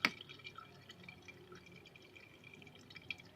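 Falsa juice being strained gives faint, close drips and a light trickle into a vessel, with a sharper splash at the start and no talking.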